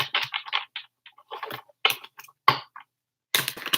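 Crisp, rapid flicking and riffling of tarot cards being shuffled in short bursts with brief pauses, close and fairly loud.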